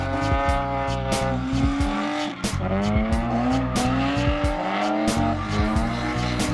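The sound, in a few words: drift car tires squealing on an oval track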